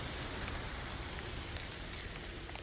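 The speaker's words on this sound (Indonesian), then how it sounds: "sudah hujan." Steady rain pattering on surfaces, a soft continuous hiss with scattered droplet ticks throughout, fairly quiet and without any voices.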